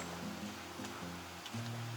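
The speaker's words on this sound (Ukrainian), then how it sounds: "От річка." A river flows past a green Carpathian mountain resort near Yaremche, a soft, steady wash of running water heard faintly from a distance under a voice.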